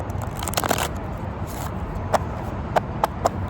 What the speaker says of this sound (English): Shuffle one more time. We'll cut the cards.